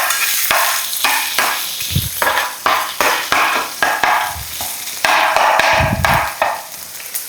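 Ginger frying in a pan for fish curry, a steady loud sizzle broken by repeated clacks and scrapes of stirring.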